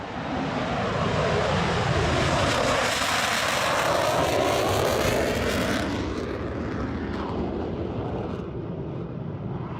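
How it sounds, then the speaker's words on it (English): An F-35 fighter jet flies overhead with a loud, broad roar that builds, holds and then fades as the jet moves away, close and heard alone with no talking. "But the F-35s, it's loud noises."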